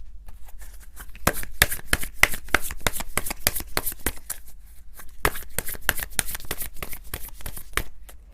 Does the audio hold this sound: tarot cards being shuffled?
yes